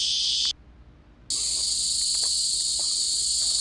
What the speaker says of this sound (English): sorry about cicadas, they're fucking loud